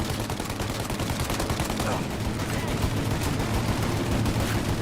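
Gunfire in the Mafia Definitive Edition video game, dense rapid bursts of shots in a continuous firefight, loud and sustained throughout.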